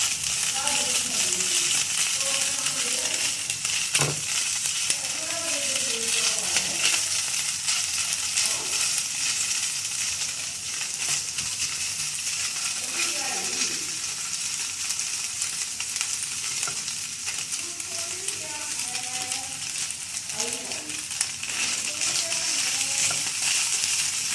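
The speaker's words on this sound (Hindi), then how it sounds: "अब हल्का हल्का फ्राई होना शुरू हो गया।" Chicken fries lightly in a pan with a steady, soft sizzle and crackle, broken by occasional stirring scrapes and a faint voice in the background.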